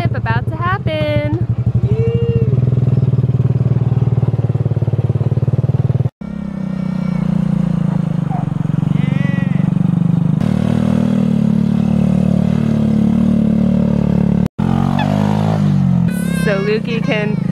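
An ATV engine idles and revs at the start of a ride at an Oregon coast campground. It runs steadily throughout, close to the recorder, while adults and children talk over it.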